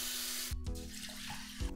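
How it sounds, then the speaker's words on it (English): Water runs into a pot of rice for Japanese home cooking, a close, quiet, steady splashing stream with a few brief gurgling bursts. "we're gonna put in here some water"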